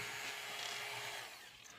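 A power drill bores through a plastic toy gun barrel, giving a steady whining, grinding buzz that holds for over a second, then eases off toward the end, with no talk.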